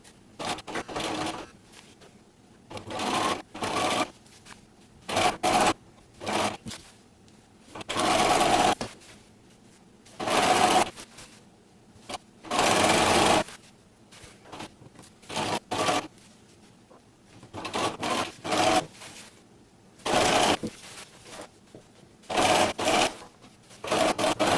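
A sewing machine stitches lace onto fabric edges for a witch costume skirt, running in repeated bursts of whirring needle chatter separated by short pauses, close and clear.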